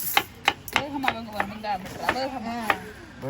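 An onion being chopped with a knife on a board at home, in about nine crisp, evenly spaced cuts at close range, while someone talks over the chopping.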